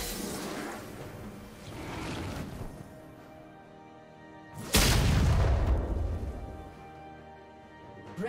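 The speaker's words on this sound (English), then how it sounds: "Red team's turret has been destroyed." A turret is destroyed in League of Legends, a swelling whoosh followed by a sudden loud crashing boom that rumbles and decays slowly amid ongoing game sound.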